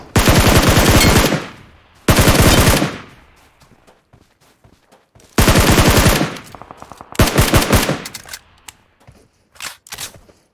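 Automatic gunfire in the PUBG Mobile battle royale game, several loud close bursts with short gaps between them, then lighter scattered shots toward the end.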